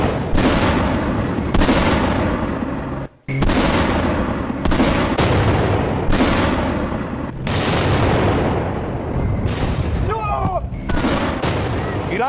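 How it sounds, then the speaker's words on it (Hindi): Missiles strike buildings during the Israel–Iran war, a relentless run of loud, heavy blasts and rumbling booms that follow one another within seconds, with a brief lull partway through. "अब ये मिसाइलें धमाका कर रही थी, इमारतों पर गिर रही थी"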